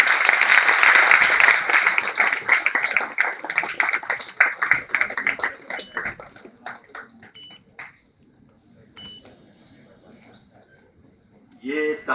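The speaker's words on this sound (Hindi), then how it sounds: "ये तालियों की गूंज" Audience applause at the close of a session on entrepreneurs' socio-cultural responsibility, loud, dense clapping that thins into scattered claps and fades to near quiet after about eight seconds, with a brief burst of sound near the end.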